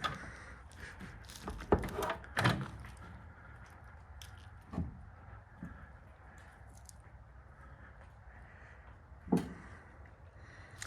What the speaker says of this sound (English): Let's open this door.